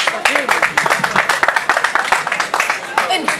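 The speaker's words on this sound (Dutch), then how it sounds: "geef hem een groot applaus" Audience applause at an outdoor village event in Kaatsheuvel welcoming a young performer, quick uneven claps from a modest crowd with voices and cheers mixed in, lively and fairly close throughout.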